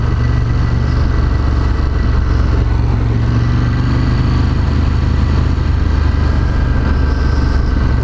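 A Ducati Monster 1200 S motorcycle engine runs loud and steady near the listener on a racetrack, a continuous deep rumble with no clear rev swings and no talk.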